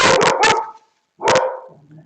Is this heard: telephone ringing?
no